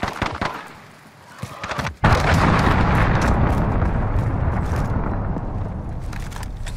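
A cruise missile explodes in Call of Duty: Modern Warfare II multiplayer, a short lead-in of gunfire giving way to a sudden loud blast and a sustained rumbling roar that fills the rest of the moment.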